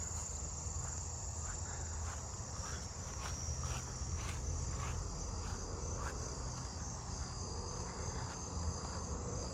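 Crickets trill steadily at night in a backyard setting, a continuous high-pitched chorus of several insects layered over faint low rumble, with soft irregular clicks scattered throughout and no voices.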